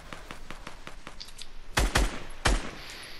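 Gunfire in Fortnite: a quick rhythmic string of lighter shots followed by three heavier, louder blasts spaced apart, close and sharp with no voices.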